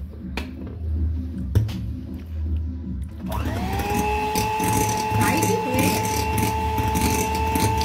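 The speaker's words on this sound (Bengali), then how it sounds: "এটা বিট করছি। হাইতে 10 মিনিট করলেই হয়ে যাবে।" An electric beater whips a cake mixture on high speed, starting with lower clatter and then rising into a steady high-pitched motor whine with rattling, loud and close.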